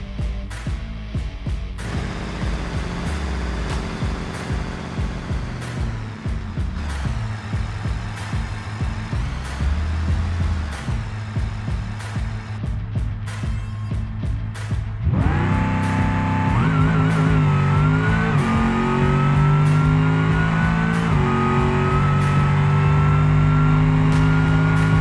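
A Gavril Roamer drag car in BeamNG, its engine revving and upshifting through gears on a full run, loud and continuous, climbing in pitch after a sharp surge midway.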